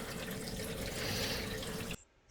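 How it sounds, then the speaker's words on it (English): Tap water runs steadily and loudly into the recirculating shower of a camper van, a dense splashing rush that stops abruptly near the end, leaving near silence. "And now we'll be filling up the recirculating shower."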